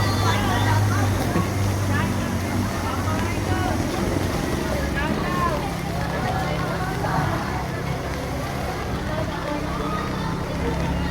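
A motorbike rides through a flooded road outside a high school, its engine rumbling low under water sloshing and wind noise, with people talking nearby throughout.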